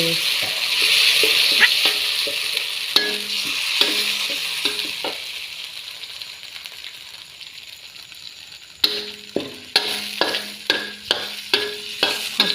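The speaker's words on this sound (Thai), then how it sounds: "แล้วเราก็ทำการผัดไปเรื่อยๆนะคะผัดไปเรื่อย ๆผัดจนกว่าหมูจะสุกนะคะ" Minced pork is stir-fried in a pan with oyster sauce and seasonings, with a soft sizzle under rhythmic scraping and clattering stirring strokes that come in bursts.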